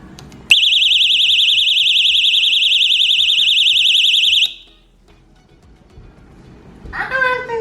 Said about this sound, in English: when I turn it on with the door closed, it makes the alarm